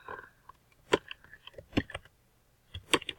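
Keystrokes on a computer keyboard while typing in the MovieStarPlanet game: sparse, close clicks in short clusters separated by quiet gaps.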